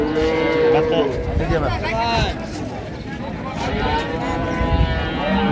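Cows mooing loudly and repeatedly close by at a livestock market, long drawn-out lows overlapping amid a crowd of people talking.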